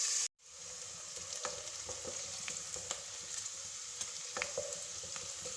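Onions frying in a pan toward light golden brown, a steady soft sizzle with faint crackles and occasional stirring ticks, close but quiet after a brief cut at the start.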